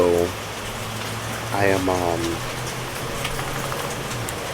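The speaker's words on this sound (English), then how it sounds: "It's raining right now." Rain falls steadily outdoors during hurricane preparations, a soft even wash of drops continuing throughout while a person speaks briefly and a vehicle engine hums faintly in the background.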